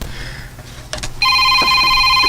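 A telephone starts ringing with an incoming call, a loud electronic ringtone with steady tones that kicks in partway through after some quiet handling noises, close and clear.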